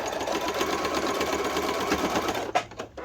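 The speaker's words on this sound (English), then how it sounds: "I think I need to change my my needle on the sewing machine." Sewing machine stitching patchwork with a dull needle, a steady close whirring run for about two and a half seconds before it slows and stops with a few final knocks.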